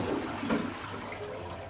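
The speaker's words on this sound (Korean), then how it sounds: "여기 보시면 변기물 많이 나가고" A hotel toilet in Hanoi, Vietnam, flushes with a rushing gush of water that swirls and drains quickly, heard up close in a small bathroom.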